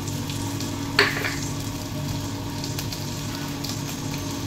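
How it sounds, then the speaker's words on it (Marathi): Green chilies and cumin roasting in a pan give a steady close sizzle and hiss, with one brief clatter near the start and no talking. "मिरच्या भाजल्या ह्यातच थोडंसं जिरा टाकायचा."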